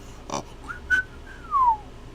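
A narrator imitates a person's whistle during a solo tabletop RPG session, with three short whistled notes, the last a longer falling glide, alone with no speech.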